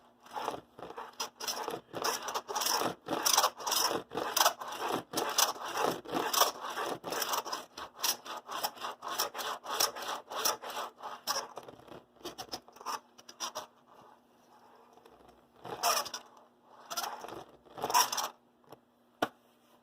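Quick, irregular scraping and rattling bursts over a faint steady hum from Ernst gears in an Athearn SD45 model locomotive, pausing and restarting near the end.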